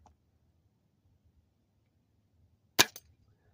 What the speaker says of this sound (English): So I'm going to take a shot at my spinner.